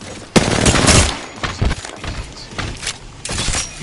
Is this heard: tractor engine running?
no